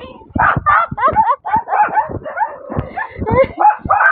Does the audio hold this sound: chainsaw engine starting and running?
no